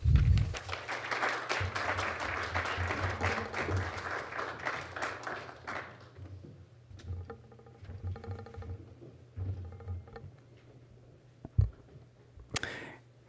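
Audience applause welcoming a visiting critic at an evening lecture, a dense sustained clapping that swells for about six seconds, then thins into scattered claps and room noise with a few later sharp knocks.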